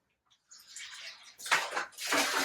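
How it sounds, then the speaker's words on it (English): Close fizzing and bubbling of a cup of vinegar in a laundry soak, a steady hiss that swells in two bursts, like something effervescing as it's poured or stirred. "It's fun because it sizzles and bubbles."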